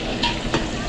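Garlic and onion sizzle while being stirred in a pan in a catering kitchen, giving a steady close frying hiss with brief scraping bursts of stirring.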